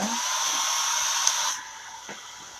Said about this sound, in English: we will hit it with a dryer on cool